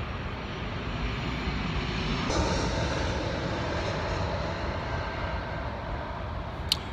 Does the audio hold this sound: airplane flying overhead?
yes